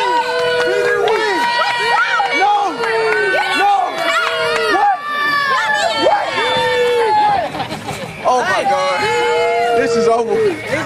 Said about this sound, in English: What y'all clapping for?